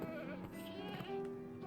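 Goats bleat in a Minecraft breeding pen, with several wavering, nasal calls overlapping close by.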